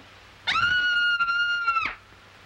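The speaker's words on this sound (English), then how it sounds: "I'm so nervous I could scream. In fact, I think I will." A woman in a film lets out one sustained, high-pitched scream, loud and close, lasting about a second and a half before breaking off.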